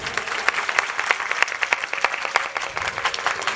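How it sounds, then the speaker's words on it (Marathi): A seated audience at a kirtan gathering applauds for a group of children, a dense burst of many hands clapping together, fairly loud and close, with no talking. "लेकरांसाठी एकदा टाळ्या वाजवा बरं बसलेले"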